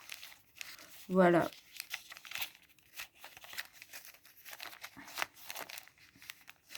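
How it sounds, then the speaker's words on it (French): Paper banknotes and an envelope being handled make one sharp crinkling burst, then softer, scattered rustles and light paper taps close up, while a quiet voice speaks briefly. "je vais enlever 20 et je vais la mettre dans l'enveloppe beauté"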